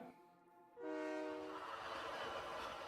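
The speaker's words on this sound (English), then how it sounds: "Because that's the train. Sure, it makes a shit noise," A super locomotive in the video game Captain of Industry sounds a harmonic horn tone, then a broad rushing rumble follows and holds steady at low volume.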